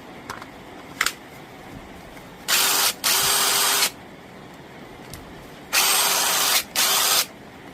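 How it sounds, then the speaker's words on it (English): A DeWalt DCH333 Type 2 SDS hammer drill runs without hammering in two loud, steady bursts of about a second each. A brief gap separates the bursts, and a second pair follows after a pause. "DCH333 Type 2 DeWalt SDS machine. It works, but it doesn't sound too good and it's not hammering."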